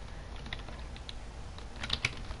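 Soft, rapid clicking of computer keyboard keys, faint and close, with a couple of sharper taps near the end against a steady hiss.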